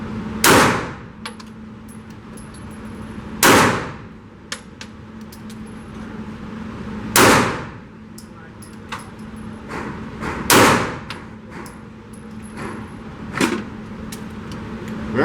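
Several loud pistol shots from a Walther PDP full size fire at a steady pace of a few seconds each, with bright metallic clangs of steel targets ringing after the reports and a low steady hum underneath.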